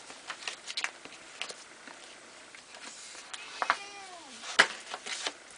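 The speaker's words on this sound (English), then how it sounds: "my cat must be hungry or something" A hungry pet cat meows near the microphone indoors, with one drawn-out meow and a few shorter calls mixed with light rustling of paper and cardstock.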